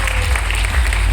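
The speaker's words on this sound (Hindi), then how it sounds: "एक जोरदार ताली होना चाहिए आप सभी लोगों के लिए" A live audience claps steadily and loudly at a motivational seminar in Udaipur, a dense continuous wash of hands with no break.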